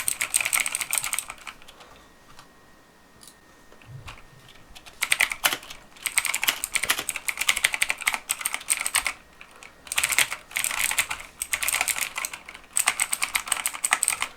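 Fingers type on a cheap MeToo brand mechanical keyboard, giving close, clicky bursts of rapid keystrokes separated by brief pauses and a quieter stretch early on.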